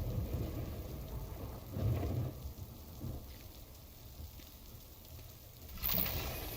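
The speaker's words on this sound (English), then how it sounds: "Ooh, we got a storm coming in." A thunderstorm in the video game Death Stranding: steady rain hisses throughout while low thunder rumbles swell and fade in several waves, with no talking over it.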